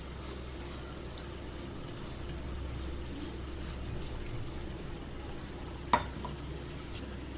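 Egg pepper masala simmers in a pan after water is added, a low steady bubbling sizzle with light stirring and one sharp utensil knock near the end.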